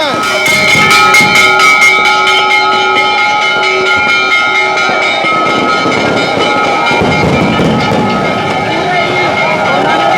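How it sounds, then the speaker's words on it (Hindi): Temple bells ring at Barsana temple during a festival celebration of Radha's birth, a bright repeated metallic clanging that rings loudly throughout amid a dense, noisy crowd. "और जैसे ही मंदिर की घंटी बजी"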